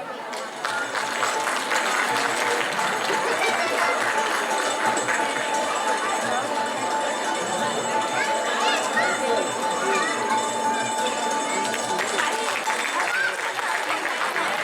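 An audience at a ceremony for Chaitra month and Maharashtra Day breaks into sustained loud applause, a dense, even patter of many hands clapping that carries on without a break, with a voice heard alongside.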